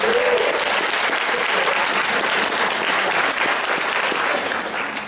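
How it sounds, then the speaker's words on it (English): A seminar crowd breaks into dense, continuous applause for a guest, a loud, even roar of clapping that holds steady from start to finish with no pause. "Give her another round of applause."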